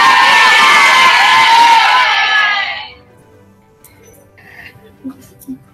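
Loud crowd applause and cheering for students at a school morning announcement, a dense burst lasting about three seconds before cutting off to near silence with faint small sounds.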